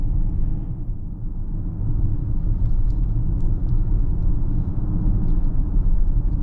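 A 2023 Audi Q8 55 Premium cruising along a curvy, bumpy road, its steady low engine and road rumble filling the cabin continuously, with tyre and suspension noise underneath.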